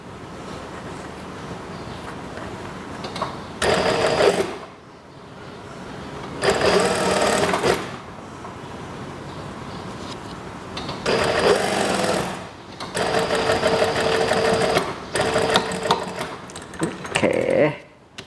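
An electric sewing machine stitches a shirt cuff onto a sleeve in several loud, fast bursts of rapid mechanical whirring, separated by quieter pauses, close by.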